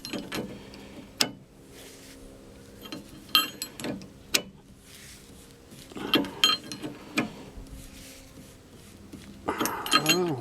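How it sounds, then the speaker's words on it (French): An Allen key and a socket wrench tightening a car's shock absorber bolt, giving scattered metallic clicks, ratchet ticks and clinks with pauses between bursts of work. "on prend la clé Allen, la clé à pipe et on visse."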